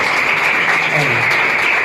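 An audience applauding the keyboard player at a Christian gathering, a dense continuous wash of clapping that stays loud and even throughout the short burst.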